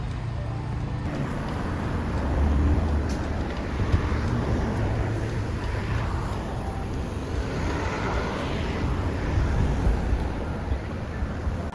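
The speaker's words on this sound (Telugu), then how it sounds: "ఇట్లా కార్ల సౌండ్లు అన్నీ వస్తూ ఉంటాయి మామూలే" Road traffic passes outside in a steady, broad rumble of cars, rising and falling gently as vehicles go by, with no voices.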